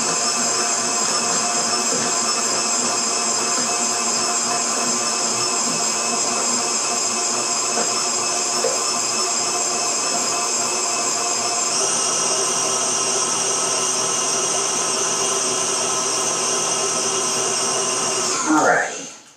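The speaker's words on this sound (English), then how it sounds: "Turn it up high so it really get that pumpkin mixed in with the butter and the sugar" Electric hand mixer running on high speed, blending pumpkin with butter and sugar; a loud, steady motor whine holds throughout, with a slight pitch shift partway through, before cutting off abruptly near the end.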